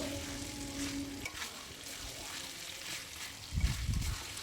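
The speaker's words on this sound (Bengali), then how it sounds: "এইভাবেই আরও কিছুক্ষণ বাটনটাকে কষিয়ে নেব" Masala paste for mutton curry fries steadily in a pan as it is stirred, a continuous close sizzle with a few heavier scraping thumps near the end and no talk.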